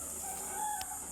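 Pet rooster crowing in a backyard garden, a short, faint crow heard from a distance over a steady high insect-like hiss.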